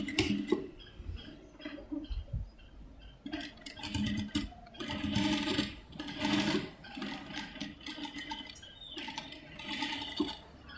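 A sewing machine stitches a skirt hem in short, quiet bursts of whirring, stopping and restarting in an uneven rhythm.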